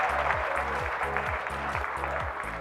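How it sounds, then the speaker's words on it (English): Hackathon audience at a Redis Day event in Bangalore claps for a team after its demo, giving dense, loud, continuous applause from start to finish, with a rhythmic low electronic pulse repeating beneath it. "Let's give them a round of applause."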